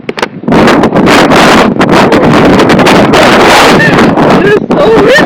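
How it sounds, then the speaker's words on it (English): Strong wind at a beach on the California coast near Morro Bay and Pismo roars and buffets the microphone in loud, continuous gusts with brief dips, almost completely burying any other sound. "It's so windy."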